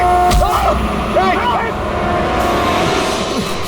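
A car engine roars and revs up close, with tyre squeals and chirps over the motor during a tense scene, while loud voices and music are heard around it.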